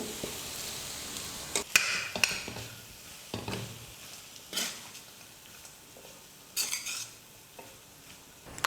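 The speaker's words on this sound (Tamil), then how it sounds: "இப்போ இந்த சாதத்தை சேர்த்து இதில் மிக்ஸ் பண்ணிக்கிறேன்." A ladle mixing cooked rice with raw mango thokku in a pot gives sporadic close scrapes and clinks against the metal, separated by quiet pauses, with no voices.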